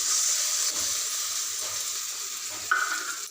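Ginger garlic paste hitting softened onions in a pan, a steady close hiss of frying with light stirring scrapes and a brief brighter sizzle flare near the end.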